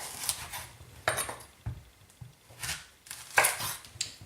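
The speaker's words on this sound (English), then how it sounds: "we're just going to chop them coarsely into fairly big chunks, so halve them" A knife chops courgette coarsely into big chunks on a board, sharp separate thuds landing at an irregular pace with short pauses between cuts, close by.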